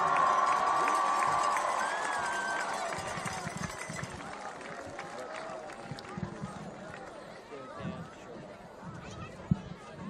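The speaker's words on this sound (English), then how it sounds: "Let's get the entire court one more round of applause." Crowd cheering and clapping at a high school varsity football game for the homecoming king and queen, a loud broad roar that fades over ten seconds with scattered shouts and chatter, and a sharp bang near the end.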